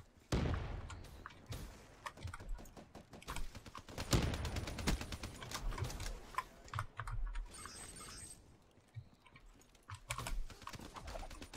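Rapid VMP submachine gun bursts in Black Ops 3 multiplayer on the Nuke map, dense clattering volleys and thumps running throughout, louder around the middle, amid game effects.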